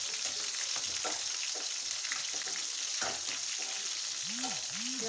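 Hot oil frying in a pan in a home kitchen, a steady close hiss and sizzle with light clicks and stirring sounds, low in level, with no talking.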